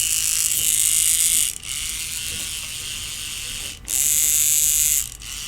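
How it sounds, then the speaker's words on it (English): A larger LEGO 9-volt motor with built-in gears runs on a 9-volt battery, giving a loud, steady high-pitched mechanical whine and gear buzz with a few brief dips and pitch shifts; no talking. "here we have the larger 9-volt motor wired up to the 9-volt battery"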